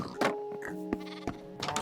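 A Minecraft sheep bleats several times in quick, nasal calls, mixed with a few soft game thunks, close and moderately loud with no talking over it.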